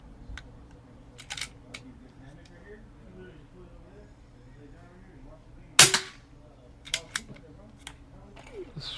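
An Umarex Zelos .25 air rifle with a moderator fires one sharp, loud crack near the middle, followed by lighter mechanical clicks, with faint background murmur and a speaking voice.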